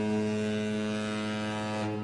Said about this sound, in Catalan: fent sonar les sirenes